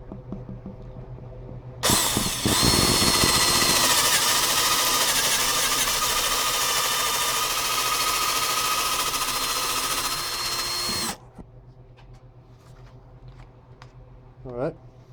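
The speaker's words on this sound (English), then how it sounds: "I'm gonna start drilling right here." A drill bores a hole into a Mitsubishi 4G63 cylinder head to prepare for a Helicoil thread repair. It makes a loud, steady grinding whine for about nine seconds, then stops, leaving a quiet room with faint handling noises.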